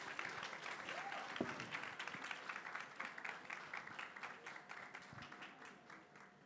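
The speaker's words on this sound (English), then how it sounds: "can we have a round of applause for the panel" A crowd applauding a panel at a glamorous product launch, continuous clapping with individual sharp claps standing out, moderately loud throughout, with a faint voice briefly audible near the start.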